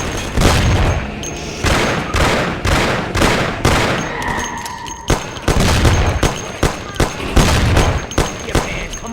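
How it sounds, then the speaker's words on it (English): Gunfire rings out in Mafia: The City of Lost Heaven, a 2002 game: loud, sharp shots that come in rapid repeated bursts, close and punchy, with brief lulls between volleys and a faint metallic ring in the middle. "So I can shoot you."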